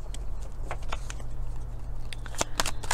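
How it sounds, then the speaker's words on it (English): Tarot cards from a Divine Masculine deck being pulled and shuffled, giving close, crisp papery flicks and snaps in quick irregular bursts, strongest near the end, over a low steady hum. "And I'm going to pull a couple more cards."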